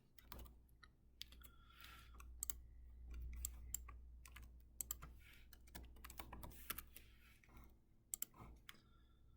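Keys on a computer keyboard clatter in quick irregular bursts of clicks, quiet and close, with a faint low hum underneath and no voices.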